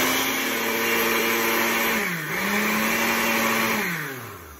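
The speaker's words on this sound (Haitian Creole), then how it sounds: "On y a là, on va le blender" A blender whirs loudly, mixing a hair treatment with apple cider vinegar. Its motor drone holds steady, dips briefly in pitch and recovers, then winds down toward the end.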